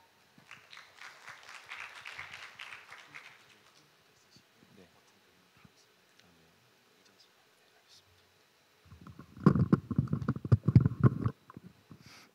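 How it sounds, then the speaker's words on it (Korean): Audience applause welcoming a solar power specialist to the stage at a Korean conference, starting faint and scattered, then swelling into a louder burst of clapping near the end. "여러분 따뜻한 박수로 환영해 주시면 감사하겠습니다"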